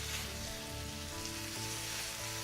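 Steaks hiss and sizzle after going into a very hot, lightly smoking oiled pan, a steady dense crackle close up with no voices over it.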